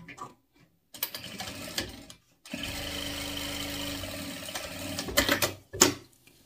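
A sewing machine stitches the lining into a cosmetic bag, running in a steady motorized burst of about a second and a half after a few handling clicks, then stopping for fabric rustles and a final tug.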